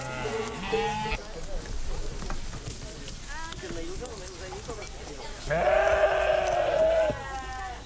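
Sheep bleat during shearing, one long wavering bleat standing out near the end, while a person talks over a noisy outdoor background.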